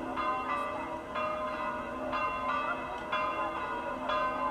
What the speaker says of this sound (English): If you listen carefully you can hear the low notes of the bigger bells behind